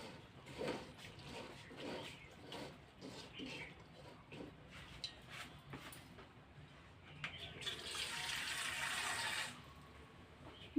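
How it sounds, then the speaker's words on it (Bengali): Water poured into a bottle gourd and mas kalai dal curry mixture, a brief rushing pour near the end following quieter clinks and handling, with a voice talking softly earlier. "দিয়ে দিলাম আর একটু পানি অ্যাড করে।"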